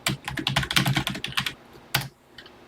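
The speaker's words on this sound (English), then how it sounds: "Type 5 call clear, then press enter." Rapid keystrokes clatter on a TI-99/4A home computer keyboard, a dense burst of close, crisp clicks followed by a pause and a few final taps, with no talking.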